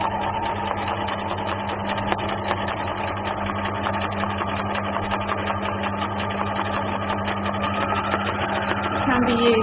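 An embroidery sewing machine stitches steadily through fabric, a fast even mechanical patter over a low motor hum, close and moderately loud, with a faint voice in the background.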